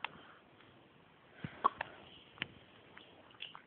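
A six-day-old newborn baby hiccups, several short, quiet, sharp jerks spaced irregularly over a few seconds against a soft background hush.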